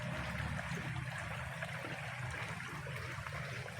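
Seawater spilling over the rim of a swimming pool at high tide gives a steady, close rush of flowing and trickling water that carries on without a break.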